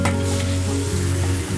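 Chicken giblets stir-fry with wood ear mushroom, celery and scallion in a hot wok for pickled pepper chicken giblets, a short burst of close, steady sizzling with a low hum underneath and no talking.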